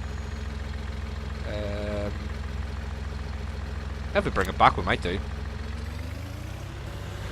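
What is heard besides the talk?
truck engine idling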